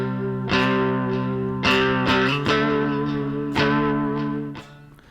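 Electric guitar power chords in a shoegaze style are glide-strummed with light distortion, several ringing chord hits spaced unevenly and sustaining, then fading out at the end, with no talking.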